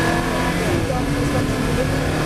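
A Ferrari F430 Challenge GT4 race car accelerates on track, its engine a steady, loud drone throughout with no clear pauses, as a driving instructor's voice talks over it.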